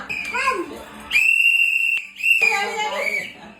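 A shrill whistle is blown twice in sharp blasts, one long and one shorter, amid the voices of children and adults at a Tamil election campaign event for the whistle symbol.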